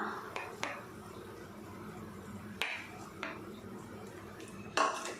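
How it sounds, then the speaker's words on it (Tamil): A spoon scraping and knocking in a pan while peanut, sesame and coconut paste is stirred into brinjal gravy, quiet intermittent clinks with a louder scrape near the end, with low background murmur. "வேர்க்கடலை எள்ளு தேங்காய் விழுதெல்லாம் சேர்த்துட்டு நல்லா கலந்து விட்டாச்சு"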